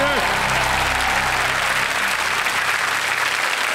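Loud, sustained applause from a TV quiz show studio audience fills the whole stretch, steady clapping with a brief trailing voice at the very start.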